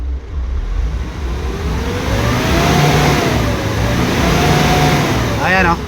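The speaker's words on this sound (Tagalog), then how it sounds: "So ngayon, i-try lang muna nating i-rev ang makina." A Kia Sorento's D4CB diesel engine, repaired after a low-power fault, revs loudly and close up, holding high revs steadily for several seconds with a brief voice near the end.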